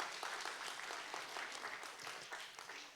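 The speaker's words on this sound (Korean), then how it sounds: "박수 한번 해봅시다." A church congregation claps together in a steady, rhythmic burst of applause during a Sunday worship service, fairly soft and even throughout.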